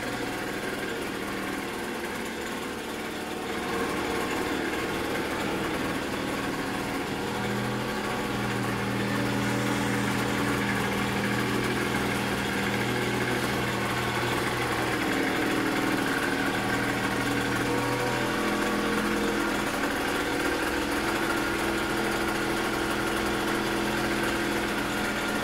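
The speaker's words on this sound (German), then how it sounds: "Wollte mal heute nur meinen Roller starten." An AGM Fighter 50 One scooter's small two-stroke engine, fitted with a new cylinder, idles steadily and evenly for the whole stretch, a constant buzzing drone with no voices.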